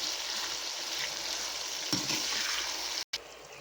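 Eggplant pieces sizzling in a pan with turmeric and salt, a steady close crackle that fills the room, broken by a few soft stirring scrapes and a short sharp gap near the end.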